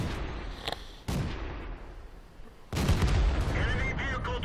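Tank guns of an AMX 105 AM mle 47 and other vehicles firing on the Ensk map in World of Tanks: two sharp, heavy blasts a little over a second apart, each with a rumbling tail, in a noisy battle.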